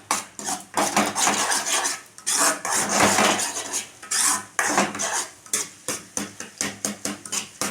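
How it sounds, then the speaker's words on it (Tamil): Five eggs seasoned with salt and pepper are stirred in a metal pan for egg fried rice. A utensil scrapes and clatters against the pan in busy strokes that settle into a steady rhythmic tapping near the end, with no talking. "அந்த உப்பு, மிளகுத்தூள் எல்லாமே அந்த முட்டையில் சொதற மாதிரி நம்ம கிண்டிக்கலாம்"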